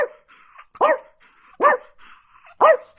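A small dog barks three times in sharp yaps spaced about a second apart, close and clear, with faint quiet sounds between them.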